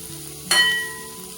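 Finely chopped cabbage sautéing in a pan gives a sudden burst of sizzling that then tapers into a lighter, fading crackle, close by and without any voices.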